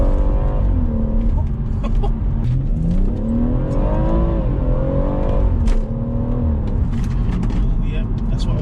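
A BMW M140i accelerating hard on a track, its engine note rising and falling through the gears and staying loud and close throughout. A voice is heard over the engine.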